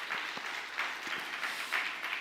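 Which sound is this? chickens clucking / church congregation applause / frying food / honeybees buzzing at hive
church congregation applause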